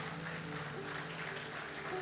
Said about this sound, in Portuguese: vamos aplaudir, né, seu Álvaro? Tem que aplaudir o Senhor